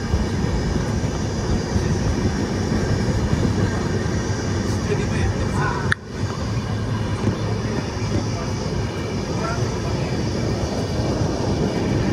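A train to Tirupati rumbles steadily along at night with a continuous roar and rattle, heard from inside, with a brief clunk midway.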